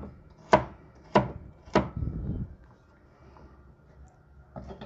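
A knife chops a carrot into small cubes on a board with three crisp, evenly spaced close strikes, then a short scraping rub, a quiet pause and one more soft knock at the end.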